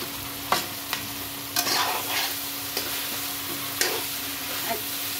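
Chunks of pumpkin and potato go into a duck curry frying in a pot, a constant sizzle punctuated by repeated clacks and scrapes of stirring, near and fairly loud.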